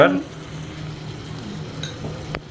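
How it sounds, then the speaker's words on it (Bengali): Potatoes and yardlong beans fry in a pan at home, giving a steady low sizzle with a few brief stirring scrapes, fairly close and moderate in level, with no one talking. "আমরা নাড়া জাড়া একটু দিয়ে ভাজা হতে দেব আরামসে এটা ভাজা হোক"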